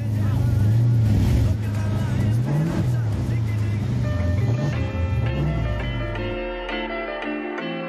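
A movie car from the Taxi films, shown as a car display, starts up and revs with a wavering engine drone that rises and falls before cutting to a quieter idle, with people talking over it.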